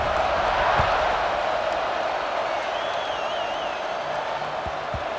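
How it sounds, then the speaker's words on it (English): A football stadium crowd buzzes after a touchdown, a steady, dense roar of many voices filling the space without letup, with a few faint thuds and a whistle-like tone rising briefly above the din. "this crowd is buzzing after that last score"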